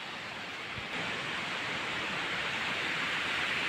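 A seasonal rain-fed waterfall heard from nearby: a steady, dense rushing roar of falling water that holds level throughout with no talking.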